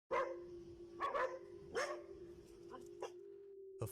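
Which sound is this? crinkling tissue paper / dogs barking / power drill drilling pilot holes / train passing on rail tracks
dogs barking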